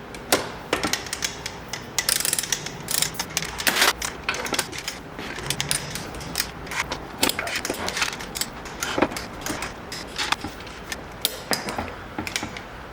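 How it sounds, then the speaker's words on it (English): A wrench torques bolts to 35 foot-pounds on a Dana 20 transfer case, giving close, irregular ratchet clicks and creaky metallic ticking with small pauses, with no speech. "these get torqued to 35 foot-pounds"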